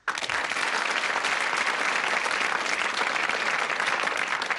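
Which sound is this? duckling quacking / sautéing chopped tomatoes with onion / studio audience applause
studio audience applause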